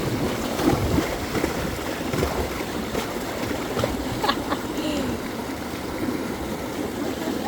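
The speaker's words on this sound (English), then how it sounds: "Are we at the base of a waterfall" Waterfall in Bali crashing down steadily at close range, a dense, continuous broadband roar with faint splashing and a brief voice.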